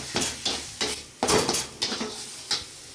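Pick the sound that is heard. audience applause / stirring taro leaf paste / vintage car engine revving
stirring taro leaf paste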